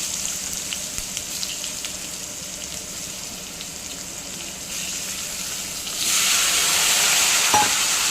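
Cut eggplant fries in a pan with turmeric, red chili and asafoetida, giving a steady hissing sizzle that swells into a louder, brighter spit near the end, heard alone without talk.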